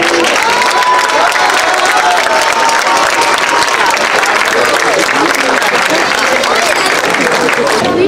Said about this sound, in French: je pense que déjà on peut applaudir l'arrivée de cette flamme olympique